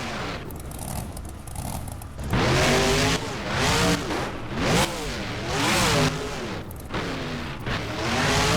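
A monster truck engine in the BeamNG video game revs hard in repeated surges, rising and falling pitch sweeps as it accelerates and launches over vans and cars, loud and close with scraping impacts and no talking.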